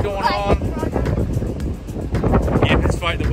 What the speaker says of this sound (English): Sorry, it's a little windy out here.